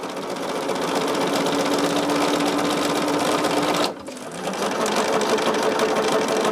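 A home sewing machine runs steadily, joining Lori Holt shabby quilt fabric pieces for a mystery quilt, with a brief pause partway through before the motor picks back up; close and continuous, no talking.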